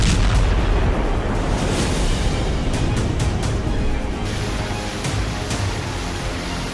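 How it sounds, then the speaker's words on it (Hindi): A US Minuteman III intercontinental ballistic missile launches with a dense, sustained rocket roar like a broad rumbling blast, steady and loud throughout with a slight drop near the end. "चार जून को अमेरिका ने मिनटमैन 3 मिसाइल का पहला टेस्ट फायर किया"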